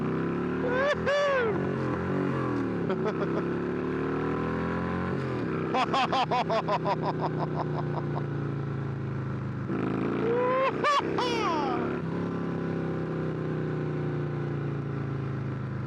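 A Victory V92C V-twin cruiser motorcycle, about 20 years old, rumbles while being ridden, its engine note rising through repeated throttle pulls and gear changes with a low, loud steady drone throughout.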